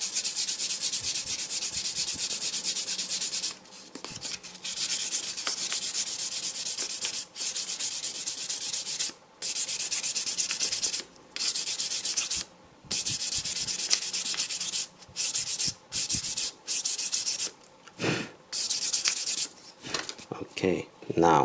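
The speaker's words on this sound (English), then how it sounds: "take your 1000 grit sandpaper and then you smooth it out or roughen the surface." Steady abrasive scrubbing of 1000 grit sandpaper smoothing a surface before applying metal gloss edge paint, a continuous close rasp broken by short pauses between strokes, with no talking.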